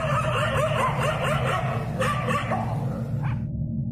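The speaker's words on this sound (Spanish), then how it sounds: "Con nuestro caminar solo se oía el ladrar de los perros" Village dogs bark and yip at night, several voices overlapping at a middle distance, a steady string of barks over a constant low rumble.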